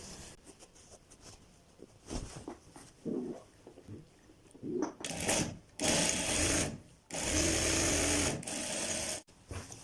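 A sewing machine stitches the final seam on a child's pajama in bursts of rapid whirring, short runs at first and then longer sustained stretches, close and fairly loud.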